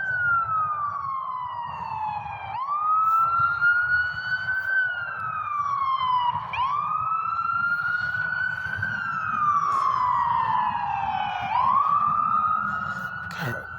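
An emergency vehicle siren wails loudly and nearby, rising and falling in repeated sweeping cycles, with a voice talking faintly underneath.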